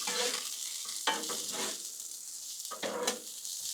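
Steak with peppers and onions stirred on a Blackstone griddle: steady close sizzling broken by several bursts of spatula scraping and tossing, with no talk.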